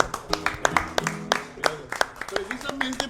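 People in a Monterrey cantina clap in a loose, uneven burst of sharp hand claps for about three seconds, with voices talking over them.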